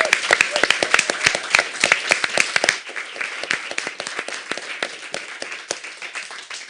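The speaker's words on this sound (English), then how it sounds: "Can we have another round of applause for Laurie?" An audience applauds a singer after a set of songs, a burst of dense, fast clapping that thins out after about three seconds into scattered claps.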